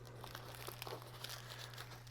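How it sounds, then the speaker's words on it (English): A foil emergency blanket, 130 by 210 centimeters, crinkles faintly as it is unpacked, with soft irregular rustles and crackles over a low steady electrical hum and no talking. "What we have here is an emergency blanket, right?"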